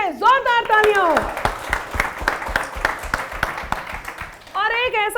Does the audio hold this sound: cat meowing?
no